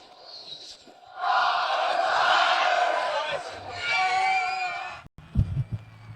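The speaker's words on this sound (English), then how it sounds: "Now the home crowd chanting." A home crowd at a basketball game chants loudly in unison for several seconds, a swelling roar of many voices that fades to quieter arena noise near the end.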